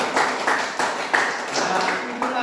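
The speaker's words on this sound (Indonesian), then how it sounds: "nah, tepuk tangan dulu" Students in a classroom clapping, a short patter of applause with uneven hand claps and a voice faintly present beneath.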